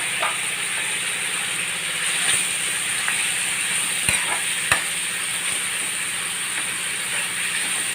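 Onions, tomatoes and green chillies fry in a pan, giving a steady, dense sizzle throughout, with a few faint clicks from stirring and no talking.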